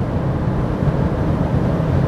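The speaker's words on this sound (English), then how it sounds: "It sounds pretty all right for a 2-liter turbo" A 2023 Audi A3 with a 2-liter turbo engine and 7-speed automatic transmission accelerates, a steady moderate engine drone heard from inside the cabin without talk.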